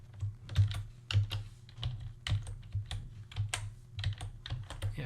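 Computer keyboard keys are typed in a quick, irregular rhythm of crisp clicks and thumps, close and fairly quiet, with no voices.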